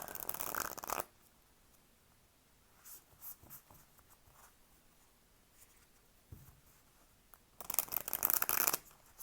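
Two bursts of card shuffling, a riffle at the start and another near the end, with quiet handling sounds in between.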